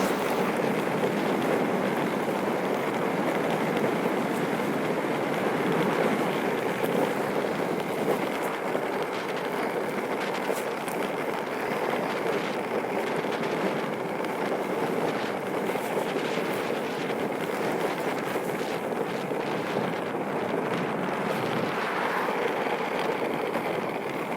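Steady broadband wind rush buffeting the microphone while riding a Backfire G3 Plus electric skateboard uphill, loud and continuous throughout with no voices.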